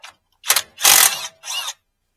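Ratcheting wrench work removing a plate from a 1958 Willys drivetrain with a Dana 44 axle, in several short, close, loud bursts of mechanical clicking, separated by brief pauses.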